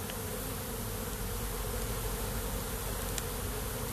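Honeybees hum in a dense, continuous drone at the hive entrance as foragers carry in pollen while sumac begins to bloom, steady and close with no talking.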